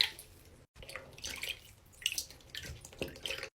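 Neatos fidget toys being washed under running water, with splashing and dripping in uneven bursts close by, no talk.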